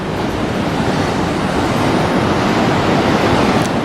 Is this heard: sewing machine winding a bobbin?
no